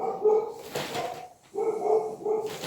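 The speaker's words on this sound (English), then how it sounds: "Dogs are going nuts." Several dogs bark in loud, repeated bursts from a home during an evening crochet session, with the barks overlapping and a short pause partway through.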